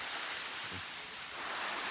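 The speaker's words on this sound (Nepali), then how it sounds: "एक महिनामै यसरी पानी हाल्नुपर्छ है त" Water poured from above onto young vegetable garden plants, a steady soft hiss of splashing and trickling throughout with no voices.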